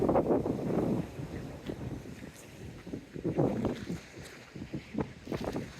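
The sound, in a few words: wind blowing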